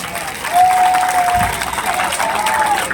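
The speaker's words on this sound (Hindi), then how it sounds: "मेरी तरफ से आप एक बार इनके लिए तालियां बजा दें।" Audience applause at a library inauguration event in Khatola, a steady crowd clapping that holds for the full three seconds, with a faint whistle-like tone and brief murmurs mixed in.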